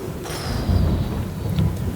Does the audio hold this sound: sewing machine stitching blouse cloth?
no